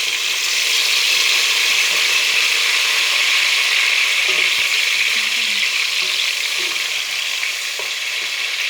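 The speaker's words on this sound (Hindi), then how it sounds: "मैं इसे थोड़ा सा फ्राई करूँगी।" Chopped tomatoes fry with onions in a pan for aloo gobi sabzi, giving a loud, steady, close sizzle with faint stirring scrapes underneath.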